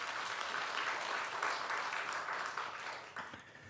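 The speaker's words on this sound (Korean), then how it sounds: "우리 예수님께 영광의 박수 올려드리겠습니다" A church congregation at a Palm Sunday worship service gives a round of applause. The clapping is continuous, dense and fairly soft, thinning slightly toward the end.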